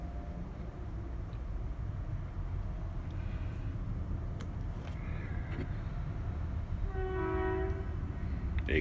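A train rolls past with a steady low rumble, while short horn blasts sound near the end.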